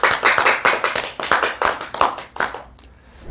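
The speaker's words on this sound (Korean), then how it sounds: "감사의 박수를 드립시다." Church congregation applauding together, a dense run of overlapping claps close by that keeps a steady rhythm for about two and a half seconds, then thins out and fades.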